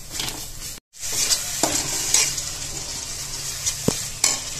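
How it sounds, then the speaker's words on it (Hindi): Chole masala spices fry in a pan with a steady sizzle, broken by a brief dropout and punctuated by several sharp metallic taps and scrapes of a spoon against the pan, close and without voices. "पहले मसाला भून के निकाल देंगे हम, फिर काबुली चना और आलू भून के फ्राई करेंगे इसको"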